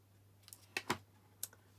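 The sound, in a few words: cutting off a bit of card for a Stampin' Up card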